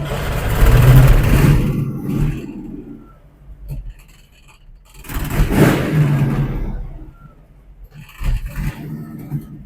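A 1961 VW Beetle's air-cooled engine revs and pulls away, loud rising engine bursts separated by quieter idling gaps, with a final shorter rev near the end.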